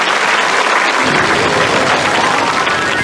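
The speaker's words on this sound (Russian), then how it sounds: "Браво! Аплодисменты!" Sustained applause from a TV studio audience at a hypnosis show, dense and steady clapping that fills the whole stretch with no break.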